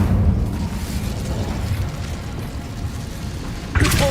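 A loud fiery roar from an Incendio spell cast in Hogwarts Legacy rumbles steadily, then ends in a sharper burst at the close.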